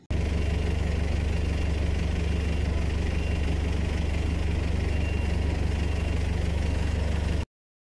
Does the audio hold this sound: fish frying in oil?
no